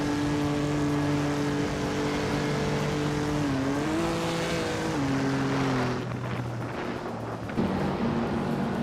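Race car engines drone steadily in a racing video game, with sustained, shifting tones as the cars hold speed and change gear, and a rougher burst of revving near the end, with no talking.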